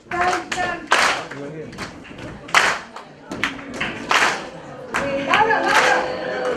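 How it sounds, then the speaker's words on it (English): Audience stamping twice and clapping in the We Will Rock You rhythm at a talk on entrepreneurship, with repeated stomp-stomp-clap bursts in a steady beat and voices calling out between the beats. "Stamp twice and then clap."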